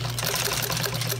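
A Juki 241 industrial sewing machine runs at an even, rapid pace while stitching long stitches, its close, steady mechanical hum and chatter continuing without pause.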